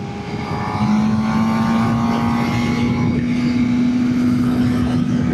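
A Suzuki GSX-R600 sport motorcycle accelerates in sixth gear at around 80 mph. Its engine note is a sustained, steady whine that climbs slowly and stays close and loud against a rush of wind, with no talking.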